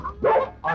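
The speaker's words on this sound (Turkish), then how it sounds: "Ne kadar güzel köpek ısırır mı?" A dog gives two short, close barks in quick succession, clear and fairly loud with nothing else around them.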